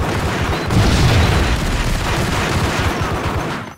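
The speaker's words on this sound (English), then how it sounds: "Someone's shooting at me. And he likes to throw grenades." Heavy booming blasts and gunfire fill a warehouse shootout in Max Payne, loud and dense with rumbling low-end that fades out at the end.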